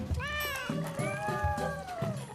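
Cats meowing in a quick run of rising and falling cries that stay close and clear, with a low rhythmic thumping underneath.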